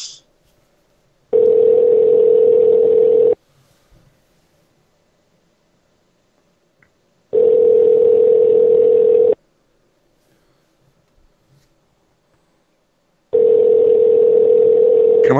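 A telephone dial tone sounds during a call to leave a voicemail, steady loud beeps about two seconds long repeating every six seconds with near silence between them.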